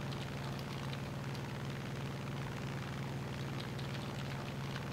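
Grumman Hellcat fighter in the War Thunder video game, its piston engine giving a steady, loud droning roar with a low hum that holds constant throughout, no speech.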